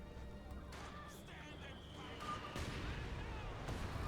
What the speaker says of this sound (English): Another barrage here from the rocket launcher, this time trying to disrupt the Punchy as they advance through here